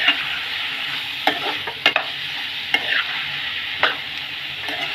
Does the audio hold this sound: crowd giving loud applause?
no